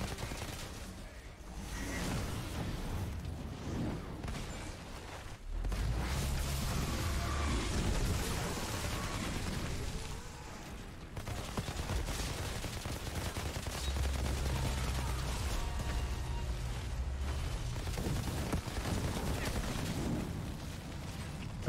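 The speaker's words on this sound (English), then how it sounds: "Does shooting the tanks work?" Gunfire in the sci-fi shooter Outriders as the player shoots at tanks, with dense bursts of rapid shots and blasts running almost without pause over a loud game soundscape, and brief player talk mixed in.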